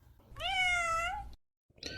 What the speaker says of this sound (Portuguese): A gata respondeu miando